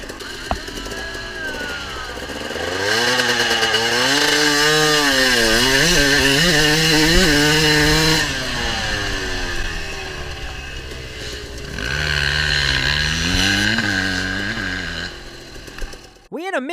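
A dirt bike engine revs during takeoff practice, rising and falling in wavering bursts, loud and close, then dropping back before another surge of revving. A second run follows and the clip ends with a short, sharp rev.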